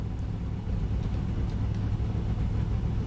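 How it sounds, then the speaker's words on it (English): A steady low engine rumble idles continuously, a sim racing game car motor ticking over at rest with a constant droning hum and no revving. "when you load up, you already have the car engine idling"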